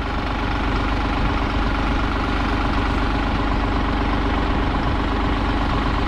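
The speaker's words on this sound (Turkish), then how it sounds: "Neyse, traktörün sesiyle sizleri fazla rahatsız etmeyelim." A tractor engine idles steadily and loudly up close, a continuous low diesel rumble with even vibration throughout and no voices, out in the field while watering garlic.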